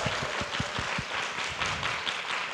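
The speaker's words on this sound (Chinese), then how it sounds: "请大家给自己掌声鼓励。" An audience gives a round of applause at a talk, a dense wash of many hands clapping steadily throughout, with no voices over it.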